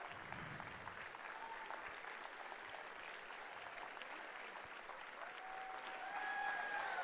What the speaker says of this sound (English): our winners back out to the stage for one more round of applause